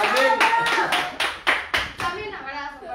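A small audience claps in a slow, spaced rhythm of distinct claps, close and clear, with voices talking over them.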